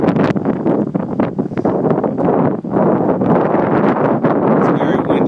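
Strong gusts of wind batter the microphone in a loud, rumbling roar that surges and dips throughout.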